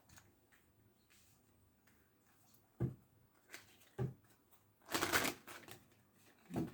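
Tarot cards shuffled by hand during a reading, soft papery riffles and taps building to a louder burst of shuffling, close and quiet with no talking.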